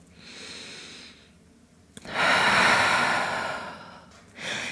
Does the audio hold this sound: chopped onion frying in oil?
no